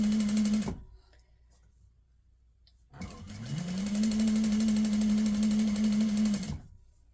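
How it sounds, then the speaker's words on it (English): A sewing machine stitches a quarter-inch seam on a quilt block, humming loudly and steadily at close range, stopping briefly, then starting again with a run-up and a long even whir before cutting off. "all we got to do is just flip that side over on that one and stitch down 1/4 inch"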